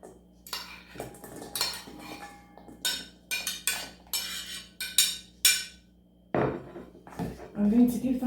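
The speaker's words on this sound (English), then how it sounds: "I'm going to add that now to the bowl." Cutlery and utensils clink and scrape against a bowl as leftover spaghetti bolognese meat is added and mixed, a series of irregular bright knocks and clatters with quiet gaps between them.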